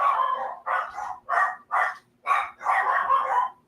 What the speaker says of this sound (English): I have 2 dogs, and they like to bark it up.